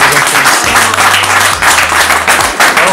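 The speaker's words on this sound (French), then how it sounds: "On peut les applaudir un petit peu plus fort." Loud, sustained applause from wedding guests right after the couple is pronounced married, dense clapping close by with a voice and a low tone running underneath.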